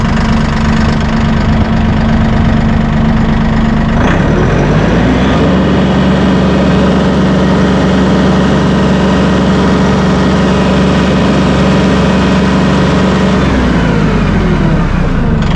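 A Massey Ferguson 1E.40 compact tractor engine idles loudly and steadily close by at around 78 to 80 decibels, a dense mechanical rumble that dips briefly in pitch partway through before settling back into a constant drone.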